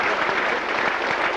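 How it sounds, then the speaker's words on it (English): A rugby crowd at a Challenge Cup match applauds as an injured player is carried off, a brief, steady burst of clapping heard from the stands, fairly loud and even throughout. "To a round of applause"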